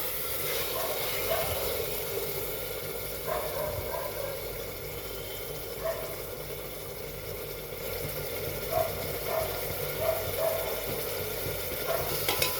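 Marinated mutton frying in a pan for a home mutton curry, a steady close sizzle with soft bubbling, occasional light clinks of stirring, and faint background noise throughout.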